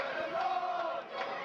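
Football crowd chanting from the back of the stand at Corby Town's Rockingham Triangle, a short sustained massed vocal chant, loud and slightly distant.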